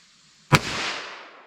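A single sharp gunshot from a .32 H&R Magnum revolver with a 4.2 inch barrel, loud and close, with a sudden crack followed by a second of fading reverberant tail.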